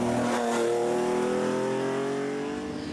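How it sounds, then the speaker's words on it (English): A Porsche 911 rally car on a historic rally stage revs loudly close by, its engine holding a strong, steady, slowly climbing note for a few seconds before easing slightly. "Always a welcome sight and sound on the stages is the Porsche 911 of Monaghan driver Brendan McAree."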